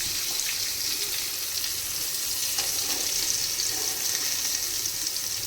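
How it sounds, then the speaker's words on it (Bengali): Sliced pointed gourd fries in oil in a wok, a steady soft sizzle with a hissy wash throughout, moderately loud and unbroken, with no voices. "পটল ভাজাটাও হয়ে এসছে তুলে নেব পটল ভাজাগুলো কড়াই থেকে"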